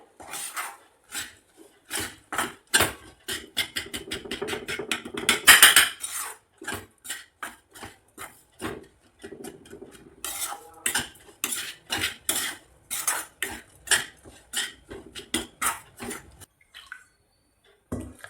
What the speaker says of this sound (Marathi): आता आपण हिला छान मिक्स करून घेऊया